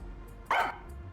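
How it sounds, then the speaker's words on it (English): A single short dog bark, a stock sound effect in a video game, sounds once, close and clear over a low background hum. "Stock barking sound effects."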